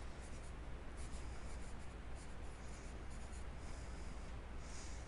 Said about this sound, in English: Now I want you to write your name on it